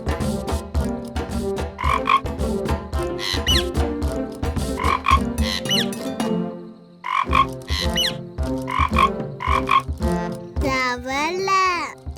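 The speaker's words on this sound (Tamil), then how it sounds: "தவளை." A cartoon frog croaks in rapid, rhythmic bursts of deep, throaty calls, loud and close, pausing briefly midway, with a voice chattering in the final seconds.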